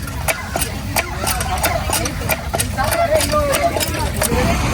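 A boring motor engine runs steadily nearby on a beach with rhythmic clacking ticks, while people talk over it.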